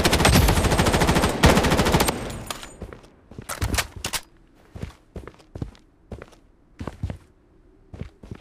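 Rapid automatic gunfire from the video game Project Bloodstrike rattles loudly for about two seconds, then gives way to a series of sharp single thuds and footsteps that repeat at irregular intervals over a low background hum.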